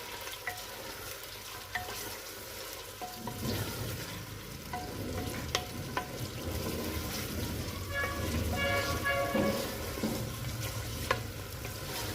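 Meat and onions frying and being stirred in a pot for aloo gobhi gosht, a steady sizzle building from about three seconds with scraping stir sounds on top, close and moderately loud, no talking.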